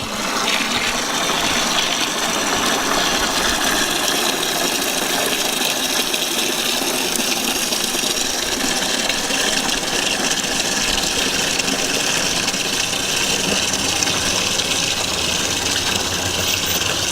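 Water flushes out of a water heater into a 5-gallon bucket, a continuous loud rushing gush with steady hiss and a low hum beneath it, lasting unbroken and alone.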